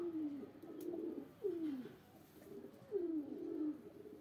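Pet pigeons coo softly nearby in a run of three or four low, rolling calls spaced about a second and a half apart over faint background noise, with no talking.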